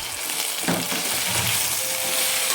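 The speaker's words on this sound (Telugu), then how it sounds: "బెండకాయ ముక్కల్ని కొద్దిగా వేయించుకోండి" Okra pieces fry in oil in a pan with tomato and turmeric. The sizzle is a dense, steady crackle broken by a few soft scraping stirs, with no voices.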